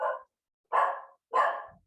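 A dog barks three times in separate, loud, close bursts spaced roughly half a second apart, with no other sound between them.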